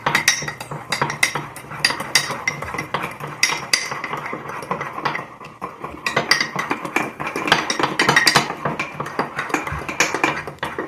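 A chocolate bar mixture being mixed in a bowl to work out lumps, with a steady run of clinking, scraping utensil strikes against the dish, close and fairly loud throughout with no talk.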